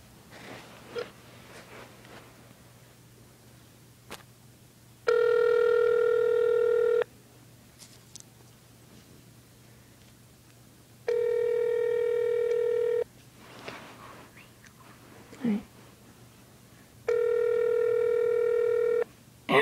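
Three steady ringback tones, each about two seconds long, sound through a phone line with pauses between them, plus faint clicks and background noise, while calling a Quiznos restaurant.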